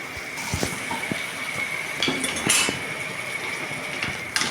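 Chopped tomatoes, onions and green chillies roasting in a pan for dhaba-style shahi paneer, heard as clinks and taps of a metal spoon against the pan over a faint steady sizzle, close and brief, with no talk.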